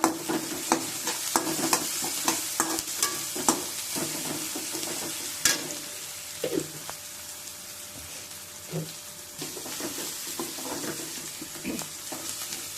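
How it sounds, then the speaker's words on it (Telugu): Onions frying with turmeric in a pan, a steady sizzle under repeated close scraping and tapping stirs, busier at first and easing off later, no voices. "కలర్ లైట్ గోల్డ్ కలర్ వచ్చే వరకు మనము ఈ ఆనియన్స్ని ఇలాగ బాండీల్లో వేయించుకోవాలన్నమాట"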